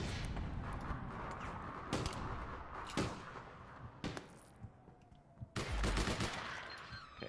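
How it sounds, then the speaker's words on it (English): Rapid gunshots in the online shooter APB, several sharp loud cracks in quick bursts with short gaps, one louder volley near the end, echoing over a busy game background. "He just shot me through the thing!"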